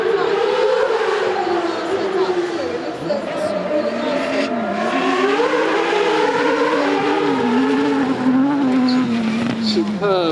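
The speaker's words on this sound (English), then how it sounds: "We've got vehicles on all sides absolutely screaming through." Off-road vehicles race through the Britpart Off Road Arena at the 2018 Goodwood Festival of Speed. Engines roar loudly and continuously, revving up and down, with a commentator talking over the noise.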